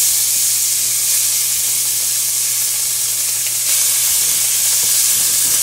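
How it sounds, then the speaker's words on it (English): Chopped pork being reheated in a skillet on the stove gives a steady, even sizzle with a constant hiss of frying fat and a low hum underneath. No one speaks. "Here's my skillet, and I'm going to put my meat off in it."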